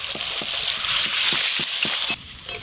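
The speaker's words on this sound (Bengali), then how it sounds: "এবার ডিমগুলো একটু লাল লাল করে ভেজে নেব।" Eggs browning in hot oil for a gondhoraj egg curry give a steady bright sizzle throughout, punctuated by regular soft taps from a spatula turning them.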